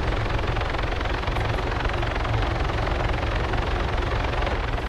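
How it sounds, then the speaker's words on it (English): Steady, dense helicopter rotor thrum from a video game drones continuously at moderate volume, with no voices over it. "The helicopter, yeah."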